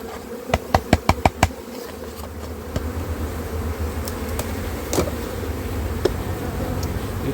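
A swarm of honey bees hums steadily during a hive move, while a quick run of five or six sharp knocks opens the sequence and scattered single taps follow over the close, continuous buzz.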